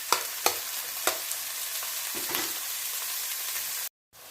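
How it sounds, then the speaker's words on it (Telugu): Finely chopped onions with a little coriander fry in a pan as the base of a chicken curry, a steady close sizzle with several sharp stirring scrapes, then a brief silence just before the end. "నాన్ వెజ్లోకి ఎప్పుడైనా ఆనియన్స్ ఇలా మంచిగా బ్రౌన్ కలర్ వచ్చే వరకు ఫ్రై చేసుకుంటే టేస్టీగా ఉంటుంది"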